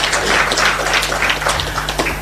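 Applause from an audience at a Kenyan environmental delegation launch event honouring a COP29 lead, a steady wash of many hands clapping at moderate loudness over a low hum, with no clear speech.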